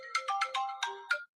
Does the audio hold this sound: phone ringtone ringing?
yes